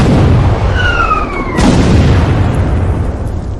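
Cannon fire at a city gate in a period battle scene: a falling whistle gives way to one loud, heavy boom that rolls into a long, rumbling roar.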